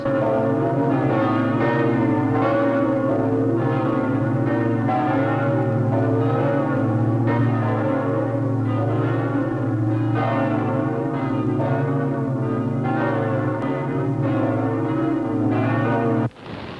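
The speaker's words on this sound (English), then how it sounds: "they ring the bell so often, it might interfere with the services" Church tower bells of St. Mark's in Venice peal continuously and loudly, their rich overlapping tones ringing out in a steady rhythm with no pauses.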